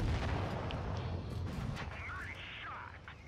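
A tank cannon fires in World of Tanks Blitz, a single booming shot up front followed by battle noise and effects, with a voice talking over it.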